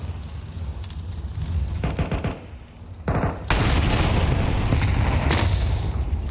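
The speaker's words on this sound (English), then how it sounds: "A deep nade here could do a chunk of damage." Grenade blast in a Counter-Strike pro match, with sharp booming detonations and a burst of rapid gunfire, loud and close with dense crackling debris throughout.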